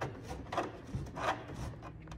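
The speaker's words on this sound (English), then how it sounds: "using a deburring tool, we are going to clean up the holes" Deburring tool scraping drilled holes clean during a fridge slide mount install, a few quiet rhythmic rasping strokes close by, with no talking.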